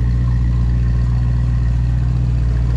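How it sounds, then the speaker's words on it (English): A 1963 Thunderbird sports roadster engine idles steadily after a cold start, its exhaust breathing through dual Smitty mufflers in a close, continuous low rumble with no voices. "Dual Smitty mufflers really give this thing a nice, really nice sound"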